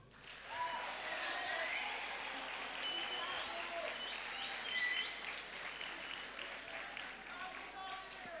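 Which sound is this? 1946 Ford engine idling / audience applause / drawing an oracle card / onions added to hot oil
audience applause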